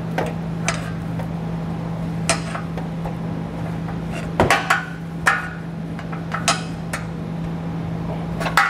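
A pry bar works a rubber exhaust hanger off the exhaust of a 2021 Chrysler, giving scattered metallic clinks, taps and scraping knocks at close range over a steady low hum, with no talk.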